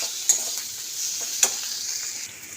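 Tomato and spice masala frying and being stirred in a pan for an amodi fish curry with black cumin, a steady close sizzle broken by a few sharp scraping strokes of the spoon.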